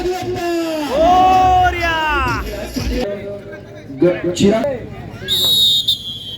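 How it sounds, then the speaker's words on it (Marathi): A shrill referee's whistle sounds loudly near the end over crowd noise and a loud voice at a kabaddi match. "पुन्हा एकदा पंचांची शिट्टी वाजते"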